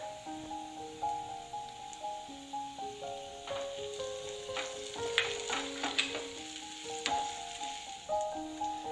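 Tomato sautéing in a pan for a vegetable kurma: a soft hiss of frying with a few stirring scrapes midway, heard quietly under steady background music.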